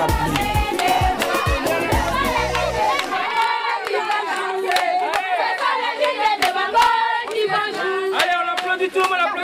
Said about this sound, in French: Allez, on applaudit tout le monde, on applaudit.